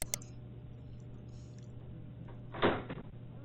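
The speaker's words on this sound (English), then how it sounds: "he will hear the sound of the door being opened by a detective" A door opens in a quiet room, a brief burst of clicking and sliding about two-thirds of the way through, heard alone over a low steady hum.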